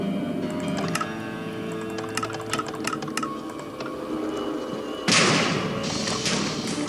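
Cannons on a Minecraft airship, the U.S.S. Skeleton, fire in a video game, producing a run of sharp mechanical clicks and thumps followed by a loud, sustained blast near the end.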